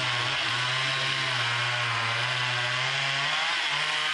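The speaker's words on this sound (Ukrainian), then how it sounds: "У глибині лісу чути звуки пили." A chainsaw cuts trees deep in a forest near Lviv, a continuous loud, buzzing engine whine held at steady pitch with slight dips under load and no one talking.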